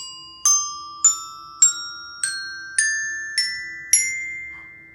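Step bells ring seven clear, bright notes in a rising sequence from low to high, each struck note evenly spaced and left to sustain and decay into the next, close and alone.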